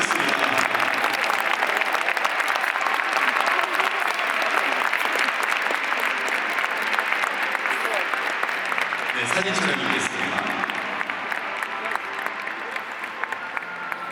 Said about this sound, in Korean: 다시 한번 박수 드립니다